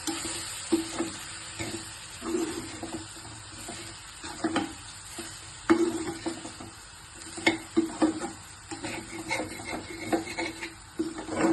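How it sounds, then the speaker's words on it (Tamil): Okra poriyal being stirred with sambar powder in a frying pan, a steady soft sizzle under irregular scraping and tapping of a spoon against the pan. "சாம்பார் தூள் போட்டு எல்லாத்தையுமே மிக்ஸ் பண்ணிக்கலாம்."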